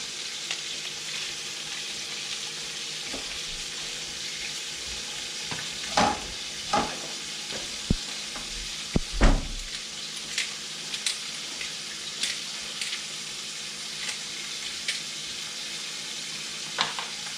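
Shrimp sizzle steadily in a hot pan, a constant hissing fry punctuated by occasional clanks and knocks of utensils, with no talking.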